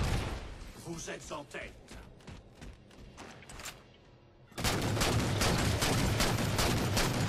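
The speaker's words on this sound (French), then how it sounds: "Waouh, ça tire de partout." Gunfire erupts from all sides during a Halo multiplayer match on the Haven map, with rapid bursts and repeated shots that swell into a loud, dense barrage after a quieter stretch, while a voice talks at the start.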